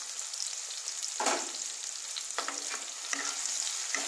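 Pointed gourd (potol) fries in a pan for a vegetarian poppy-seed dish, giving a steady close sizzle with a few louder bursts of stirring.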